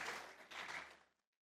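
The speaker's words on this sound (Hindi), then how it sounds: "अबे तालियां क्यों बजा रहे हो यार?" Studio audience applause on a cricket-themed comedy game show, a broad wash of clapping that swells twice and then cuts off abruptly after about a second.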